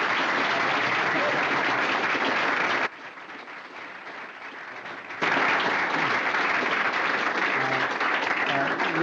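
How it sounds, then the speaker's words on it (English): A high school audience gives astronauts a loud, sustained round of applause that dips briefly quieter in the middle before surging back at full strength. "let's give them a really rousing round of applause"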